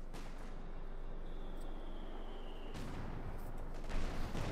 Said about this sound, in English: Section suffering further losses, the machine gun and the main gun.